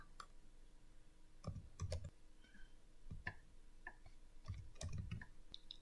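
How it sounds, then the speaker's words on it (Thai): Computer mouse clicks, a handful of sharp isolated clicks spaced irregularly over a quiet background, close to the microphone. "โดยการคลิกที่สร้างบทเรียนนะคะ"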